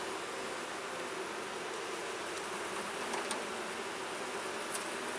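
Honey bees hum in a steady, soft drone around an open hive in a queenless colony, continuous and fairly faint, with a few brief louder passes of individual bees.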